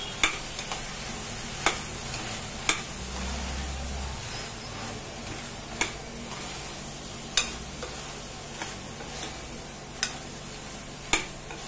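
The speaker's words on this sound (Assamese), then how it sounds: "এই মছলাৰ লগত গোটেইখিনি সয়াবিনে মই ভালদৰে ভাজি লওঁ" Soybean chunks frying with masala in a pan give a low, even sizzle, broken every second or so by sharp spoon taps and scrapes as they are stirred, heard up close with no voices.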